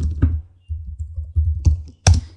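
A computer keyboard being typed on to enter a URL: a short run of close, crisp key clicks in uneven bursts, with a few louder strokes, heard alone without talk.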